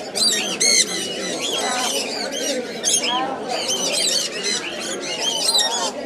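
Sun conure parrots squawk in rapid, shrill bursts amid a dense chorus of other caged birds at the Mirpur bird market, loud and near throughout, with someone talking over the noise.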